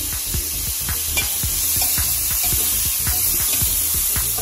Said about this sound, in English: now that the oil is hot, right, we're going to add our shrimp